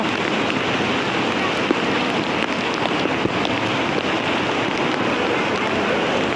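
The flooded Khahare stream in Boudha rushes in a dense, constant roar of turbulent water, loud and close, with gusts of wind buffeting the microphone and no clear pauses.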